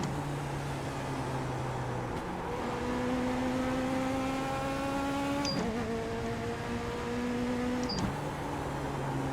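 Race car engine note from the iRacing game, a Legends car at Lanier National Speedway, droning steadily with rising pitch sweeps and two sharp gear-change breaks, loud and continuous with no talk.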